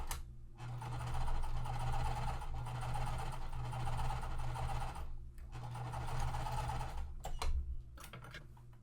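Sewing machine stitching quilt pieces in bursts, several steady runs of close mechanical whirring separated by short pauses, ending with a few light clicks.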